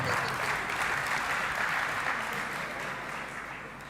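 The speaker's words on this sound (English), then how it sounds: "You clap whenever there is a pause." Audience applause at a university academic opening address by the vice-chancellor, a steady, dense clapping from a large crowd that holds evenly for several seconds and slowly tapers.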